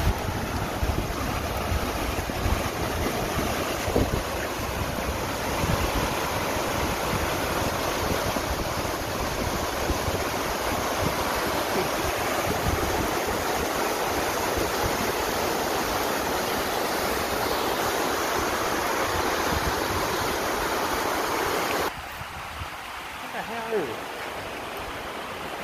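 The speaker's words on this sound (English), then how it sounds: "Yeah, that water's rushing." Steady loud rush of whitewater in a mountain stream near Gatlinburg, Tennessee pours continuously, close and broad, dropping slightly in level near the end.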